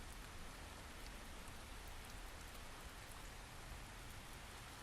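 Steady rain from the video game Halo Reach, a dense, even hiss of falling drops that stays constant throughout, quiet and with no voices.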